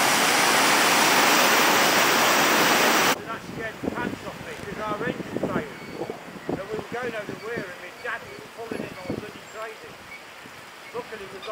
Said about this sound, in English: These gate paddles are totally unprotected, and they are pretty wild. Look at that boiling in there.